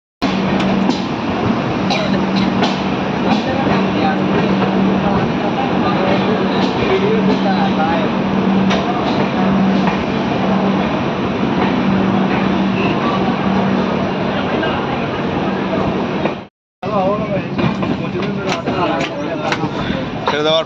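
Rajendra Nagar - Howrah SF Express train running between Rajgir and Howrah, a steady loud rumble and rattle of the moving coaches heard from inside, continuous for about sixteen seconds with a brief dropout before the noise resumes.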